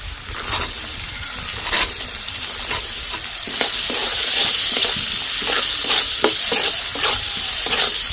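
Chopped carrots stir-fried with ginger and garlic in a pan for chicken momo filling, a steady close sizzle with repeated scraping stirs of a utensil, growing slightly louder midway.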